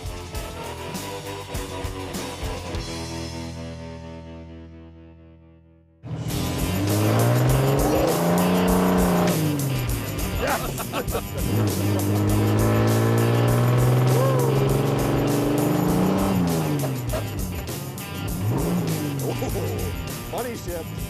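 A restored roadworthy car with a deafening exhaust starts up and drives off, loud engine roar rising and falling through gear changes with tire squeal, close and continuous for most of the stretch after a brief lull.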